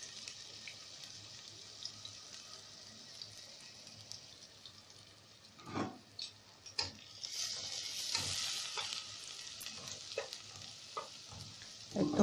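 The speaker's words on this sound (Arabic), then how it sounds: "الفلفل كده اتحمر، هننزل بقى عليه بالثوم" Garlic goes into a pan of already fried peppers, sizzling steadily with a spoon scraping and stirring now and then, brighter bursts of frying near the end, close and moderately loud with no talking.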